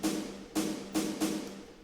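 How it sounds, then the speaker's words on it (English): A self-made amapiano drum roll plays as four punchy percussive hits with a tonal low-mid body, spaced unevenly and quickening slightly toward the end, clear and close with no voices. "and here is my drum roll."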